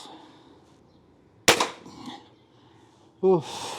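A Hatsan Apache air rifle fires a single sharp, loud shot outdoors, followed by a brief fading tail and a short burst of nearby speech.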